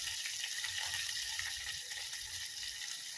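Spices temper in hot oil for rava dhokla, giving a soft, continuous hiss and sizzle, fairly faint and close, with no voices.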